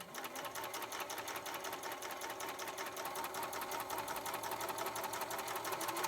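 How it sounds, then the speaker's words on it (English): A White Power Lock serger overlock sewing machine threaded with four threads runs steadily at a fast, even rhythm, close and fairly quiet, with no talking. "now I have all the threads in my hand, all 4, and I'm slowly going to press on the presser foot"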